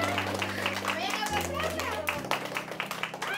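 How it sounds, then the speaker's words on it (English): A school group claps for an elementary teacher being named District Teacher of the Year at Castleberry ISD. The brisk, scattered clapping is moderately loud, with voices talking over it and a steady low hum underneath. "Give me a nice clap for Miss Bray"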